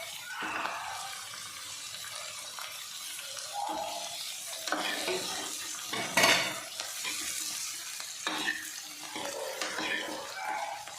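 Garlic frying lightly in a pan for a spiced eggplant bharta, with a steady soft sizzle under repeated stirring and the clink of a utensil against the pan, close by and moderately loud.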